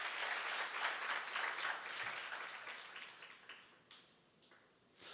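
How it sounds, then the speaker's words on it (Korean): A congregation at a church seminar applauds steadily, a dense wash of clapping from many hands that holds for several seconds, then thins and fades out near the end. "박수로 영광을 돌리세요."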